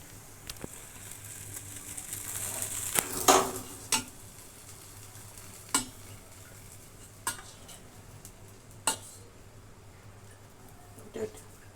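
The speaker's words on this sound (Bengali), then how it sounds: "ভাজার শেষ পর্যায়ে চলে এসেছি ল্যাংচা ভাজা হচ্ছে" A soft, steady sizzle of langcha sweets frying in a pan, punctuated by several sharp clinks of a utensil against the metal, with talking at times.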